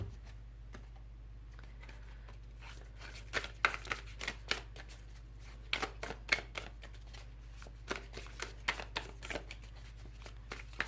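Tarot cards being shuffled by hand, a run of quick, crisp riffling flutters and soft slaps that come in bursts, close and fairly faint, with no talking.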